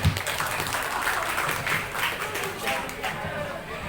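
Moderately loud applause and clapping from an audience at an English festival fills the room evenly for a few seconds.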